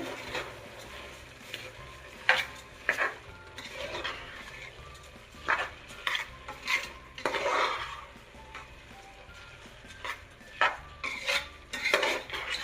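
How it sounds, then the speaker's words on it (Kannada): A spoon stirs rice with masala in a pot while making veg green pulao, giving irregular scraping and clinking strokes against the metal with a faint sizzle underneath, close and without talk. "ಮಸಾಲ ಜೊತೆ ರೈಸ್ನ ಮಿಕ್ಸ್ ಮಾಡ್ಕೊಳ್ಳೋಣ"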